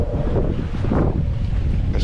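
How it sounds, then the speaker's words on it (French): Strong wind at sea buffets a sailboat moving under sail with its engine off at about four and a half knots, a constant loud rushing roar with water noise mixed in. "j'espère que le vent va continuer un peu à augmenter."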